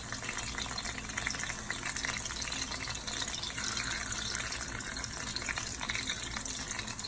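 Cabbage pakodas frying in hot oil give a continuous dense sizzle and bubbling crackle, steady and fairly close throughout, with no talking.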